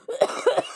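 A brief, close, loud cough with a throaty rasp, two quick rough bursts within under a second, alone without talk.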